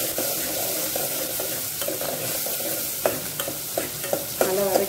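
Tomato masala with medium tomatoes sautés in a pan for a fish curry, a constant close sizzle under rhythmic scraping strokes of a spoon that grow sharper toward the end.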